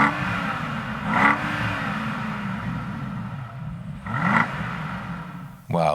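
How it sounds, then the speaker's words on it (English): A BMW X7's inline six-cylinder petrol engine revs up twice from a steady idle, each rev rising then falling, heard up close with no talking. "here under the hood there's also the inline 6-cylinder petrol engine"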